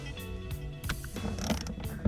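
Close ratcheting clicks and creaks come as a wrench turns to torque the seat bolts in a C8 Corvette, several quick strokes over about two seconds with no talk.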